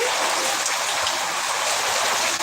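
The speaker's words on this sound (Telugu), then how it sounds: "వర్షం అయితే పడుతూ ఉంది" Steady heavy rain falling outdoors, a dense, even hiss of drops pattering on surfaces, loud and continuous with no talking.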